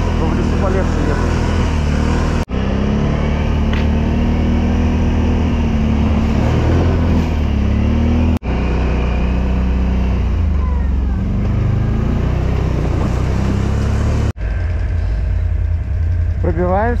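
BRP 650xmr, BRP 1000 and ODES Mudpro 1000 quad bikes push through deep first snow across fields and forest, a steady loud engine drone running throughout with brief cuts, close to the rider.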